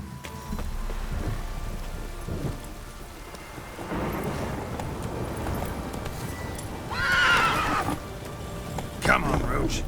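A horse whinnies and its hooves clip-clop amid thunder and rain in The Witcher 3 video game, with a loud neigh standing out near the end over steady stormy rumble, and voices talking in between.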